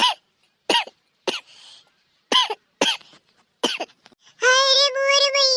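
A young girl coughs in a string of sharp, close bursts with short pauses between them, then clears her throat and lets out a drawn-out vocal groan at the end.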